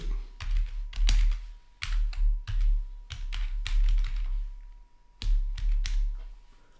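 Someone types an email address on a computer keyboard, fingers tapping close up in quick, irregular bursts with short pauses, and no voices.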